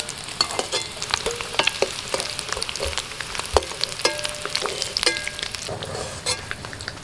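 Paneer cubes frying lightly in oil for a vegetarian biryani, a dense crackling sizzle with frequent sharp pops and utensil clicks, close and fairly loud, no talking.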